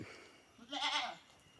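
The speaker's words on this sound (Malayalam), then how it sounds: "നല്ല ബോഡി വെയിറ്റുള്ള ആടാണ്" A single crossbreed goat bleats once, a short wavering cry rising out of quiet background, fairly close.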